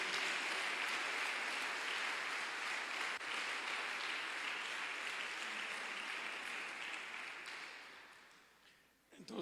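A church congregation applauds during a Spanish-language devotional service, a broad, soft, distant wash of clapping that continues evenly, then fades near the end.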